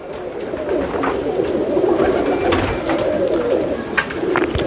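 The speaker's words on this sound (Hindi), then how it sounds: "ये है वो कबूतर जिनका मैंने अब आपको ज़िक्र किया" Teddy pigeons coo steadily in a Lahore pigeon loft, soft throaty calls overlapping close by against a constant background hum.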